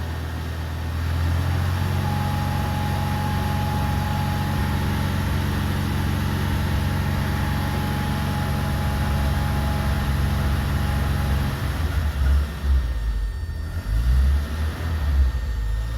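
A 1982 BMW 320i engine idles with a steady low rumble, then rises unevenly near the end as it is revved and struggles, heard close and without talk.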